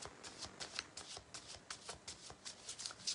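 A deck of tarot cards is shuffled in a steady run of quick riffling, crisp papery bursts at close range with no voices.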